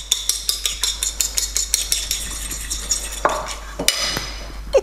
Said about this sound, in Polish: Na talerz wbijam jedno całe jajko i roztrzepuję je widelcem.